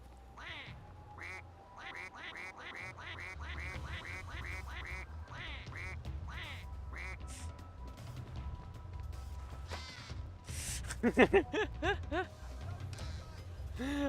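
A duck in the video game We Happy Few quacks in a rapid, steady run of repeated calls, then a louder, denser burst of quacks near the end, set over a low rumbling game background.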